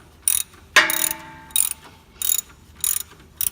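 A ratchet tightens the alternator tensioner bracket on a DeLorean, five short crisp bursts of rapid clicking at close range, with a single metallic clank between them.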